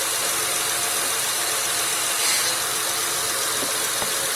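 A 2005 Acura RL idling with its engine running while the steering wheel is turned during power steering work, a steady broadband engine hum and hiss with a faint whine swelling briefly midway, close and continuous.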